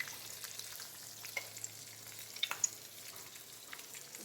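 Green chillies and garlic fry in a pan with a faint, steady sizzle and a few small pops and crackles. No voices.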